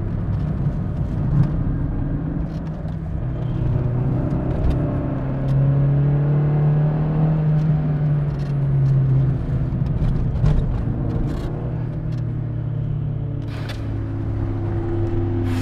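A Renault Clio Williams front-wheel-drive hot hatch pulls hard at full throttle through a corner, recorded from inside. A steady, strong engine roar rises in pitch with a few faint knocks and clicks over it.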